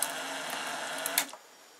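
A multi-blade shredder for plastic parts runs after a jam, giving a steady mechanical whir and grind for over a second, with a brief clack before it winds down and stops.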